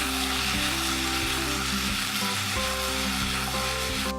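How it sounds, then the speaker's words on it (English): Potatoes sizzle in a frying pan as they are stirred, cooking for a Spanish-style tortilla; a steady, loud frying hiss continues throughout with low rumbling stir movements and no talking. "I'm going to stir the potatoes"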